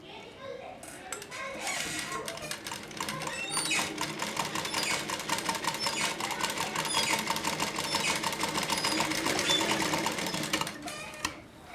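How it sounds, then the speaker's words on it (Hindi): A sewing machine stitches fabric slowly and steadily, with a close mechanical needle clatter that swells and rises in intensity, plus light clinks and handling noises and some faint voice underneath. "बिल्कुल धीरे धीरे सिलाई लगाते हुए जाना है, जल्दबाजी बिल्कुल भी नहीं करें।"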